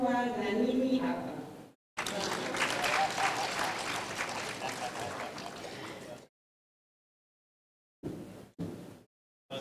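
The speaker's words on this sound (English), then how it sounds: "Once again, a warm round of applause for Ms. Harry Anga." An audience at a county assemblies legislative summit in Mombasa gives a warm burst of applause lasting a few seconds, following a brief voice and ending abruptly in silence.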